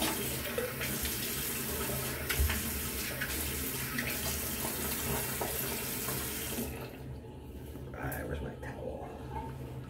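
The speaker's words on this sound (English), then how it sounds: "let me rinse this off" A hotel bathroom tap runs in a steady, close hiss as someone rinses off after shaving, then stops abruptly, with a voice faintly audible.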